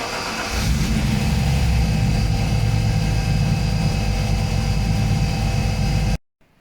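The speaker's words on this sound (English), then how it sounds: "I've got it running okay just on fuel only" A TVR 290 S engine starts up and settles into a steady, rumbling idle on fuel alone, close and loud in a workshop, before cutting off abruptly at the end.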